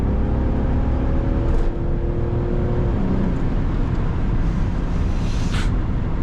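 A 2008 BMW E91 335d diesel accelerating hard from 100 to 200 km/h, with a steady engine drone and road and wind roar filling the cabin and no talk.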